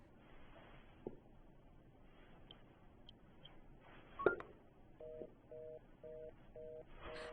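Faint rustling, then a short run of evenly spaced touch-tone keypad beeps as a phone number is dialed.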